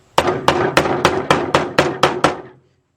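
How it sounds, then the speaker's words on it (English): Eight sharp hammer blows land on a wood block pressing an engine seal in during a Chevy Equinox engine rebuild, a steady, even rhythm, each a crisp knock with a short ring, then silence. "If you don't trust hitting it with a hammer, you take the block of wood"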